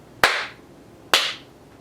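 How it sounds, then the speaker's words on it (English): Two loud, sharp hand claps about a second apart, each a crisp close-up smack with a short room decay, alone in an otherwise quiet indoor space. "I'm gonna clap really loud."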